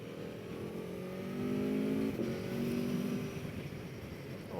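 An Aprilia Tuono V4 1100 Factory motorcycle engine rising in revs, dipping briefly at a quick-shifted gear change, then pulling again; a moderately loud ride-along drone with no talking.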